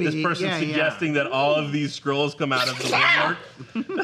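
A sudden sneeze from one participant cuts into a spoken discussion, a short loud burst partly overlapping continuous nearby talking.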